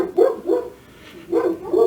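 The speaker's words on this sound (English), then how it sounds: "Apologies for the dogs" Dogs barking outdoors in warm, sunny weather, two quick pairs of loud, close barks separated by a short pause, with no other sound.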